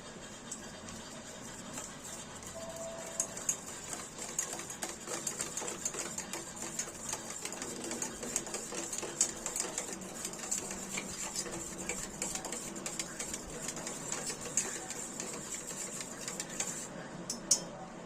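A spoon stirs turmeric and chili powder with water in a bowl, giving a quiet, rapid, steady run of clinking and scraping ticks that lasts throughout.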